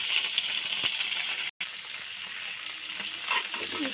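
Dried chepa shutki fish frying in mustard oil in a pan, a steady close sizzle with light stirring scrapes and one brief dropout in the middle.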